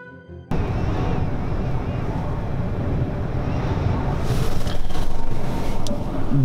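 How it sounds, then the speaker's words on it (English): Strong Patagonian wind roars outside a window, a steady loud low-heavy rush after a brief quiet start, swelling into harder gusts in the last two seconds. "That's the wind outside this window."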